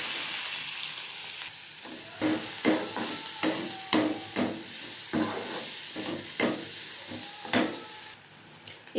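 Onion frying in a spoonful of oil with mustard seeds, cumin and asafoetida for a gongura methi meal maker curry, a steady sizzle broken by repeated stirring scrapes, close and moderately loud.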